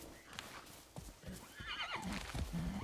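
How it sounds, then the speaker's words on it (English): Wild horse in the video game Far Cry 6 gives a clear whinnying neigh mid-way, preceded and followed by soft clip-clop hoof steps, fairly quiet overall. "Oh, it's a wild horse."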